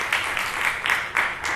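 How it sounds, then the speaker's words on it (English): Brief, sparse applause from an audience at an evening presentation, a few uneven bursts of clapping rising and fading over a second or two. "let's hear a round of applause for"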